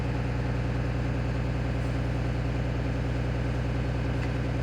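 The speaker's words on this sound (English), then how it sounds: "we're going to start the bus up, building our pressure back up" A school bus diesel engine runs at a steady idle while building air brake pressure, a continuous loud low drone with no break and no voices.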